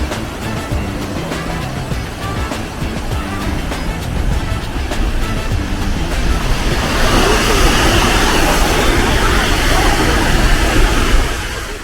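Waterfall in Iceland that can be walked behind, a steady broadband roar of falling water that grows louder and fuller partway through, close by with no talking.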